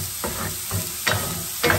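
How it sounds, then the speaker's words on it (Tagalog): Chopped onions and garlic fry in a little hot oil, a close crackling sizzle broken by four rhythmic stirring scrapes, with no voices. "Magpapainit ulit tayo ng konting mantika at i-add na natin ang ating sibuyas, ang ating bawang."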